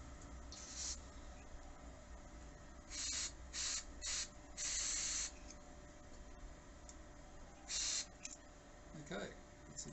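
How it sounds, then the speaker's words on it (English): WD-40 aerosol sprayed into the rocker shaft of a Humber Super Snipe Mk IV engine during disassembly, heard as several short close hissing bursts of varying length over a quiet workshop background. "the rocker shaft. Again, squirting some WD-40 down."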